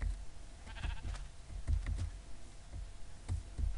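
Several short sheep bleats from a flock in the Minecraft video game, spaced irregularly and fairly close, over low background noise.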